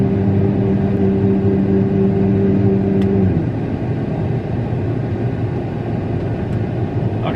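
A farm vehicle's engine idles steadily at loud, close range in a wheat-harvest setting, a low droning rumble with a steady tonal hum that drops away after a few seconds, leaving a rougher continuous idle.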